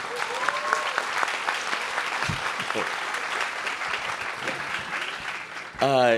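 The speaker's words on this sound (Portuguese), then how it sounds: "Uma salva de palmas para o nosso jogo" A large gathering bursts into steady applause after a football match that ended in a draw, the clapping dense and even throughout with scattered voices underneath, then cut off at the end by a short musical sting.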